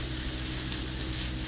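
Finely grated garlic toasting in a frying pan alongside other vegetables gives a soft, steady, close sizzle with no talking.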